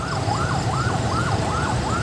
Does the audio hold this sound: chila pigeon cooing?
no